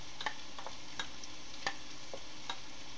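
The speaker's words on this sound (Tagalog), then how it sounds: "medyo pinipirito ko yung hebe para hindi malansa" Dried shrimp frying in a pan, giving a steady close sizzle broken by several light crackles and stirring taps, with no voices.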